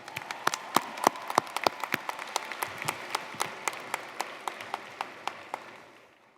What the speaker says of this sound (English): Let's give Professor Campbell and Seminole Sound another round of applause